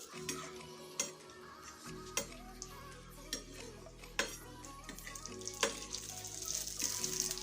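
Puffed semolina fuchka shells fry in hot oil with a steady close sizzle, broken by sharp clinks of a utensil against the pan every second or so; no one speaks.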